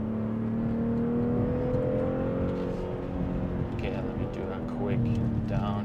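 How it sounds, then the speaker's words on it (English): A 2026 BMW X3 engine drones steadily from inside the cabin on a twisty road, its pitch sliding as it downshifts and briefly swelling with revs toward the end, with road and tire noise underneath. "Downshift right here, and then we're staying really well through here."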